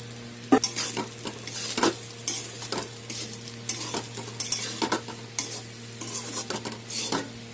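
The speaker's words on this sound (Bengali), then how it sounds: "ভাতগুলো এখন সব সসপ্যানে ঢেলে দিয়েছি, এখন সব একসাথে মিলাবো" Cooked rice and vegetables being stirred and scraped in a saucepan for Bengali fried rice, with a steady soft sizzle and repeated close scraping strokes of a spoon against the pan, no talking.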